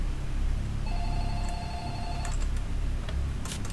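Telephone ringing inside a Roblox horror game, a steady electronic ring tone repeating over a constant low background hum, fairly close and clear with no talking.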